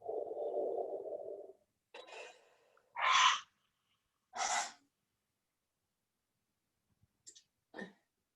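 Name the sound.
breathing out during a breathing exercise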